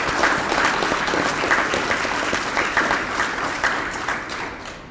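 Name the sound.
applause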